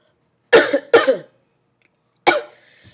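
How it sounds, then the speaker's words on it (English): A person coughs three times, two quick coughs close together and then one more after a pause, loud and near with no speech around them. "really sorry about my coughing, guys."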